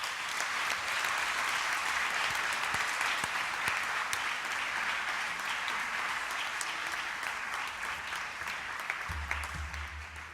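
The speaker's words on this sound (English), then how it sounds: "So let's give them a very, very big round of applause." Sustained applause from an assembled audience in a provincial legislature chamber, a dense, steady roll of clapping lasting throughout, with a low hum entering near the end.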